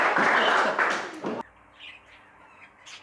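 Budgerigars at a society members' bird show chirp and squawk in a loud, busy chorus for over a second, then fall away to faint scattered calls against quiet room tone.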